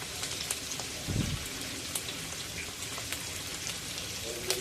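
Poche frying in hot oil on a pan, a steady close crackling sizzle with scattered pops and a brief low thump partway through.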